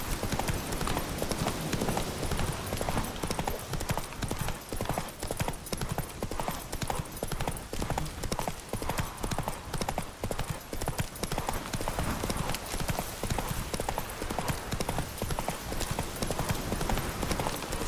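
Horse hooves clip-clop steadily while riding in The Witcher 3, a continuous rhythmic trot heard close up through the whole stretch, with occasional snorts and game ambience around it.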